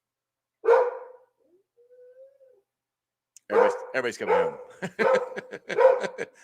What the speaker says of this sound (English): There's my dog. Just as my dog is yelling.